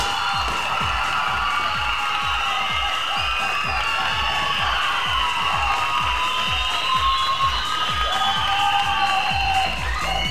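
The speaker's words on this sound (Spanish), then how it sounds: "Aplausos a la pareja número 1." A live crowd at a dance-contest event claps and cheers for a competing couple, with rhythmic clapping beneath whoops and shouts that stay loud and continuous throughout.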